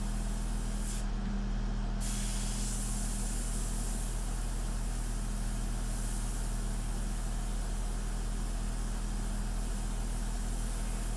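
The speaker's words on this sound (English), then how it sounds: "I don't recommend this airbrush" Airbrush spraying India ink while painting a portrait, a steady close hiss of compressed air and spray with a compressor hum underneath, running continuously and evenly with no talk.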